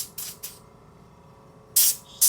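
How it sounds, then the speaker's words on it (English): Cheap air compressor spraying through a nozzle: two short hissing bursts near the start, a quiet gap, then a stronger blast and another short spurt at the end, close and loud. "It's not a bad compressor."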